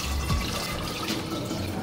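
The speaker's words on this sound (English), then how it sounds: "You can use the little spigot here. We could just pour it in." Homemade cold brew coffee running from a small spigot into jars, a steady, close stream of liquid filling the container.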